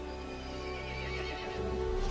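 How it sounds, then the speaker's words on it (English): Horse in the video game Resident Evil Village neighing with a drawn-out whinny over clip-clopping hooves, set against a steady droning background with the hoofbeats growing louder toward the end. "The horse grew angry and summoned the other monsters."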